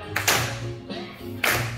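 A few sharp hand claps land on the downbeats of a West Coast Swing count, spaced unevenly over a sustained musical tone, close and fairly loud.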